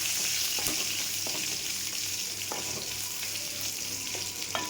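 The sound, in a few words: garlic and ginger sizzling as they are sautéed in oil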